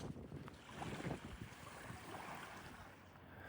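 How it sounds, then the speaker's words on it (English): Wind gusting at the shore of Sandy Point, Somers, rumbling across the microphone in uneven surges with a faint wash of waves behind, fairly quiet overall. "It's not bad now, but it's starting to pick up a bit."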